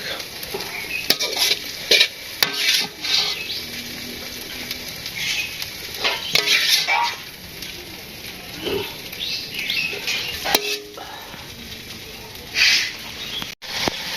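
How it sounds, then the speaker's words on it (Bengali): Meat is sautéed in a pan for a tomato meat curry in a village kitchen during an Eid gathering. A steady sizzle runs under frequent stirring scrapes and clanks, with voices talking now and then. "মাংস কষানো হচ্ছে।"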